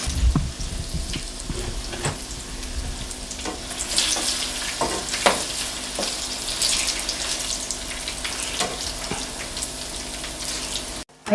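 Banana cue frying in a pan at breakfast, a steady crackling sizzle with occasional sharper pops and stirring scrapes, close and continuous throughout, with no talking.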